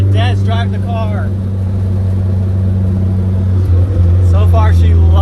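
A supercharged Mazda Miata drives with a loud, steady engine drone and low rumble inside the cabin, while people talk over it.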